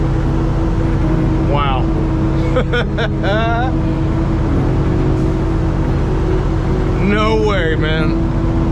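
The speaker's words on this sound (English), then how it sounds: "In 4th gear, I ought to be able to get up this steep ass hill" A car engine labours steadily in fourth gear up a steep neighborhood hill, a loud constant drone filling the whole clip while a man exclaims briefly over it.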